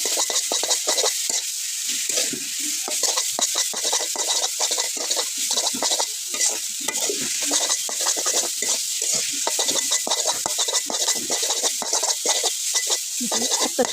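Taro leaves frying loosely in a pan in a village kitchen, a constant loud sizzle with repeated scraping stirs of a spatula through the greens, close and steady.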